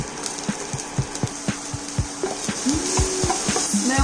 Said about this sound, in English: So now we're going to stir fry it one by one.